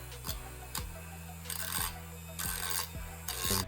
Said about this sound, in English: Now take your brass rod and sharpen one of the ends with a Dremel